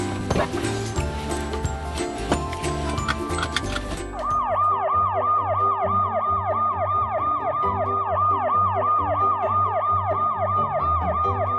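Police sirens wail in a video game, first under a busy jumble of music and noise, then alone as a steady, fast, repeating up-and-down siren cycle that keeps going, loud and close.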